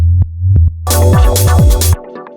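Deep booming kick drums and a low bass pulse of a 90s Detroit minimal techno bass line, side-chain compressed to the kick, joined midway by a bright, noisy synth layer before dropping back to sparse thumps.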